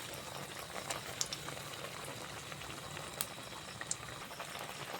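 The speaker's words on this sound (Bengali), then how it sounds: "সুন্দর কী করে ভাজা হচ্ছে" Steady bubbling sizzle of vegetable fritters frying in hot oil, continuous and close, with a few sharp pops and crackles scattered throughout; no voices.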